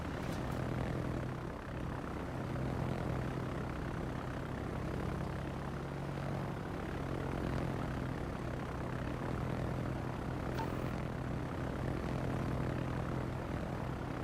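Propeller engine of a BTD aircraft in World of Warships drones steadily and evenly for the full length, a continuous mid-level hum with no pauses.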